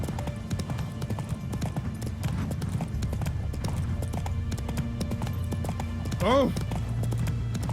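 Roach the horse in The Witcher 3 video game clopping along in a steady trotting rhythm, with a brief whinny late on, under speech and background game sound.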